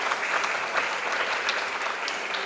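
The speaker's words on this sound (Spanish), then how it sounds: "Lo recibimos, por favor, con fuertes aplausos" Listeners at an international circular economy forum give a company executive a warm welcome, a continuous burst of brisk, even clapping from a seated audience.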